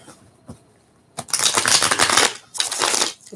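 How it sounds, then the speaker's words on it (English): A tarot deck is shuffled in a few quick bursts of crisp riffling card flutter, two long close riffles separated by a brief pause after a couple of light taps, with no talk. "let's give it a couple more final shuffles"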